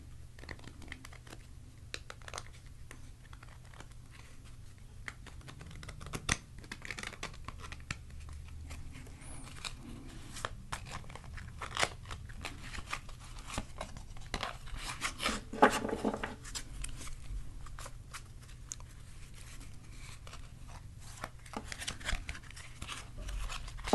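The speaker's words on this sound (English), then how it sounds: "I think I'll shuffle up this deck a little bit" A deck of cards is shuffled quietly by hand, giving soft scattered riffles, rubs and taps at close range over a low hum, without talk.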